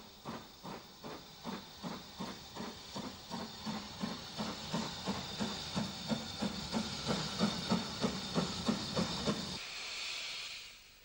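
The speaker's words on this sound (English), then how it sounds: "264 tank, number 52, leaves York Road with the train for Whitehead" Steam tank locomotive No. 52 pulling away from York Road station with a train, its exhaust chuffing in a steady rhythm that quickens slightly as it gets going, over a constant hiss of steam; the chuffing stops abruptly near the end, leaving a fading hiss.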